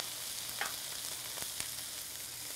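Broccoli hits a pan of chicken and basil stir fry in rice bran oil, setting off a steady broadband sizzle with a couple of sharp clicks and scrapes from stirring, close and alone with no talk.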